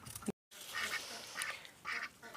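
Ducks and geese on a farm, a quiet chorus of quacks and honks in a few short bursts, with a brief gap of silence near the start.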